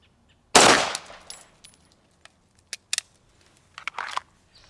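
Shots from a Sig Legion pistol fired double action: one loud, sharp report at the start followed by a few quieter clicks and clatters, then a short burst of impacts near the end.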